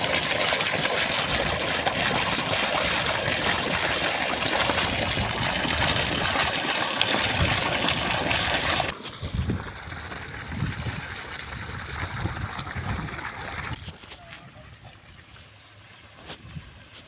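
A 3 hp DC borewell pump pouring water out through a 2-inch outlet for farm irrigation, giving a steady broadband rushing gush with a motor hum beneath, loud at first and then fading as the view moves away.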